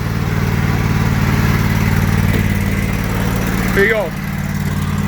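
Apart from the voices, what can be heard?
lawnmower engine starting and running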